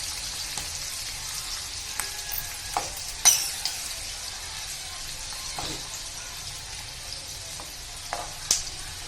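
Sweet corn deep frying in oil on medium heat, an even bubbling sizzle with scattered pops and occasional stirring clinks, close and fairly soft, with no voices.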